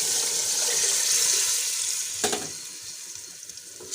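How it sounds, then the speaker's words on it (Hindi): Masala sizzling hard in a pan for aloo matar pulao, then a brief splash as water goes in, after which the frying quiets to a softer simmer; no talking. "अब हम इसमें ऐड करेंगे 3 गिलास पानी।"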